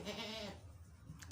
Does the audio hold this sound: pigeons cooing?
no